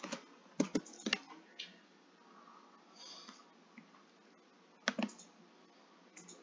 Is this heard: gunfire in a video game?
no